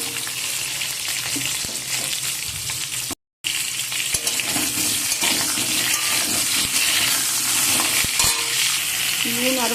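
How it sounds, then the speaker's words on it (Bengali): Potatoes frying in oil in a wok, stirred with a spatula: a steady loud sizzle with scraping and clinking of the utensil against the pan, continuous apart from one brief cut. "আলুগুলোকে ভালো করে নেড়ে নেব"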